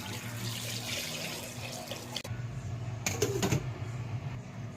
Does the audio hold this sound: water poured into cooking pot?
yes